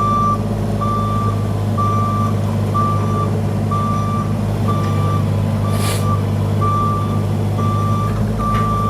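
Steady backup beeps from a mini excavator reversing while moving logs pulse about once a second over a loud, continuous diesel engine drone, with a brief hiss near the end.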